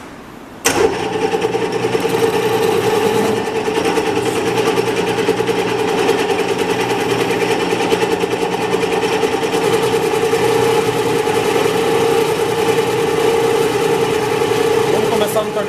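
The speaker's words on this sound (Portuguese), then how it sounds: "Vamos começar no torneamento externo" A metal lathe runs steadily for external turning, bringing a workpiece down to 25 millimetres in diameter, with a constant close machine hum and whine starting abruptly after a brief quiet moment.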